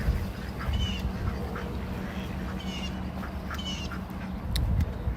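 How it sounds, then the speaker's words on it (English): Ducks quacking in a greenhouse yard, a steady noisy chorus of calls at close to mid distance running throughout, with a few sharper honks standing out near the end. "All right, ducks, chill out."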